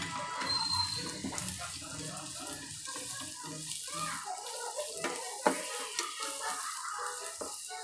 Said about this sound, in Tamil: பாருங்கள் இப்போது வெங்காயம் வந்து கொஞ்சம் வதங்கிடுச்சு